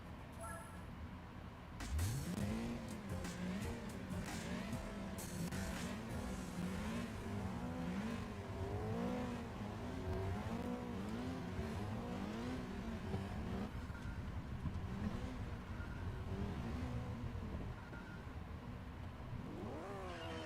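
Race car engines in the video game Gran Turismo 4 drone and rev continuously, with pitch sweeping up and down through gear changes across the whole stretch, loud and close, while a voice talks intermittently over them.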